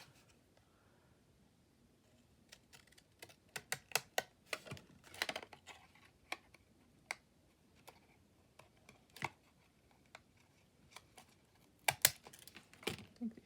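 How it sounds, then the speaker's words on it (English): Quiet, irregular snips and clicks of dull decorative scissors making jagged cuts in paper, a series of short crisp sounds close by with gaps between them. "I'm going to go ahead and use the same decorative scissors."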